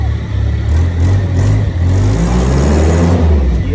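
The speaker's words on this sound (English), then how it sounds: "Yeah, rev it up, baby." A Hyster forklift engine revs loudly and continuously at close range, a throaty, rising and falling roar that holds throughout with no voices.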